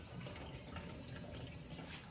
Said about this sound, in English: all the water should drain out into the bucket